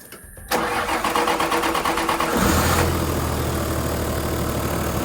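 A Toyota Land Cruiser 80 series engine cranks and catches, then settles into a steady, loud idle close by, with no talking over it.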